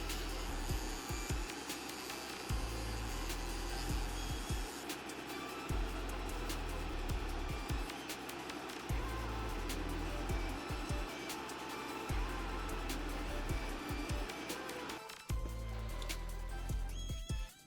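A dust collector runs steadily while a 1/24 scale resin Ferrari 812 GTS model body is sanded with fine grit, giving a loud, constant whooshing roar with faint intermittent ticks and scuffs, briefly dipping near the end, with no talking.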